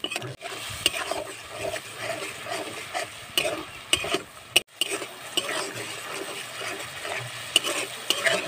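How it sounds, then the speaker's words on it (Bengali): Spice paste and chopped tomato being sautéed in a pan for a Bengali cauliflower and katla fish curry, with steady close sizzling and repeated scraping and clinking stirs of a spatula against the pan. "এইবার আমি ভালো করে মশলাটাকে কষিয়ে নেব"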